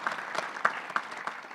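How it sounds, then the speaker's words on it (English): An audience at a National Guard enlisted association conference business session claps for two Platinum partners, a steady, dense patter of many hands with a few sharper nearby claps standing out, without any talking. "let's give both of these Platinum partners a big round of applause for everything they do for us"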